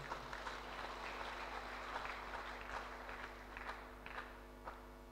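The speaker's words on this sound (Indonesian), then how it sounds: "bagi juga tepukan sukacita untuk mereka" Applause at a church anniversary celebration for the 28th anniversary of the Diocese of Keningau, a steady wash of many hands clapping with scattered sharper claps, heard from moderately far within a large space.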